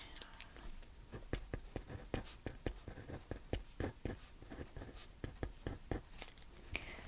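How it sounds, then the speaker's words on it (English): A pen scratches out a prescription on paper during a soft-spoken eye exam roleplay, with a steady run of close, quiet strokes and taps, intimate and faint. "let me just write that"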